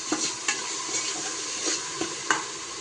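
Ginger and garlic fry in a pan, a continuous hiss under repeated scraping stirs. A spoon scrapes the metal every half second or so, close and moderately loud.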